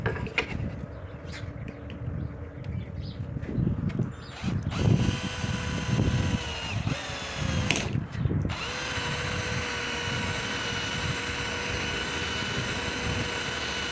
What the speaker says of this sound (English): we're going to drill a hole through the back of here